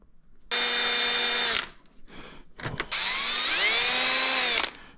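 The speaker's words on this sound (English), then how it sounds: "All right, so I'm going to drill some holes here." A power drill whirs at high speed in two bursts, the second rising in pitch as it winds up, with a short rattle between them.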